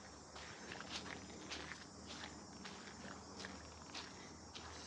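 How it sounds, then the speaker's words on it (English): Crickets chirp in a humid garden, a dense shrill trilling with a steady pulsing rhythm that carries on throughout, accompanied by soft rustling steps. "I wonder if you guys can hear on the camera the noises of like crickets."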